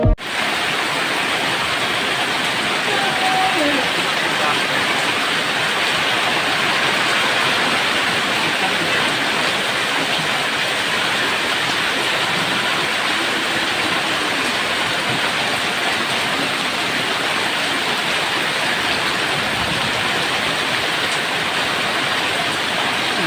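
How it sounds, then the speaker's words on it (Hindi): Heavy rain pours down at a flooded crossing in Ranchi, a dense, steady roar of rainfall that holds loud and unbroken from start to finish, with no voices. "रांची में भीषण बारिश।"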